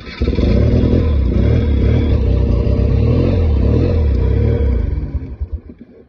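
A cold BMW R90S motorcycle with Dell'Orto carburettors idles high on choke, a loud, close, steady rumbling boxer-twin engine that runs evenly, then fades and stutters near the end.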